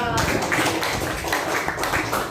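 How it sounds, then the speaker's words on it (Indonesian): Applause from a class breaking out for a student during a sociology lesson, a dense, steady patter of clapping hands filling the room for a couple of seconds. "tepuk tangan dulu buat Adra."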